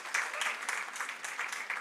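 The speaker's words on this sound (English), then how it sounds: "Please, a round of applause for her." Soft, somewhat distant applause rises from a panel session audience, individual claps faintly pulsing through a thin, steady wash of hands.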